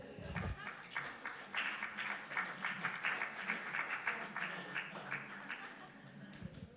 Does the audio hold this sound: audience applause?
yes